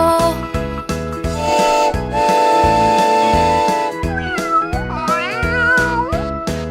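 Repeated meows sung or imitated over a bouncy, rhythmic children's tune with steady backing chords.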